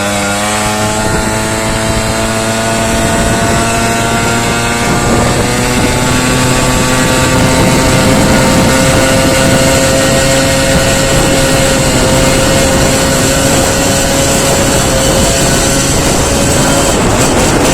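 A Piaggio Ciao moped engine runs fitted with a new homemade airbox, a loud, close, buzzing two-stroke drone whose pitch climbs and then holds steady throughout without a break.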